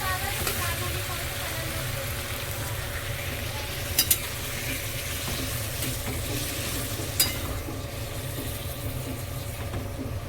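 Pumpkin, potato and prawn curry vegetables simmering in a pan with a little water poured in, a constant dense sizzle and bubbling hiss close up with a couple of brief metallic clinks and no talking.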